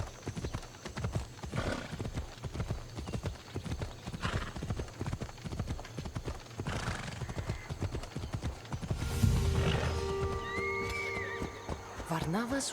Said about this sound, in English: Is that your horse or his horse?